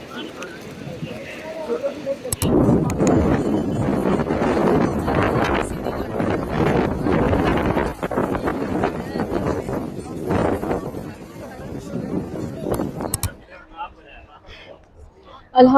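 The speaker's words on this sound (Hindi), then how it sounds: "इतनी कोई ज़बरदस्त हवा चल रही है" Strong wind blows through the open courtyard of Masjid al Haraam in Makkah, buffeting the microphone with a loud, continuous, gusty rumble for most of the stretch before dropping away near the end.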